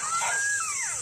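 African wild dog pack calling at night: a few thin, sliding whistle-like calls and whimpers rising then falling, moderately close over a steady hiss of night insects.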